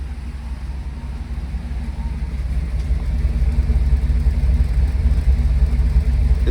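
A Sierra pickup truck engine idles without an exhaust, with quiet lifters and a faint lope, a steady low rumble heard close and alone that swells slightly toward the end.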